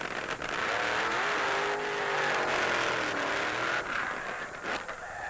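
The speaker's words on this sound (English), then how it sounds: "These cars have greatly modified supercharged engines and run on special nitro fuel." A powerful supercharged, nitro-fuelled drag racing car engine at the 1972 NHRA World Finals in Amarillo roars loudly and continuously, its pitch shifting as it revs, with a rough, throaty drone throughout.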